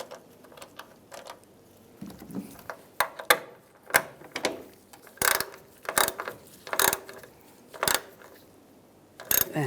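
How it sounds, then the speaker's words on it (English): A ratchet with a 4mm hex socket tightening a bolt on the tailgate of a 2007-2013 Chevy Silverado, giving bursts of rapid close clicks that start sparse and turn into steady strokes, with no talk. "using a 4mm hex socket, we're going to tighten this down"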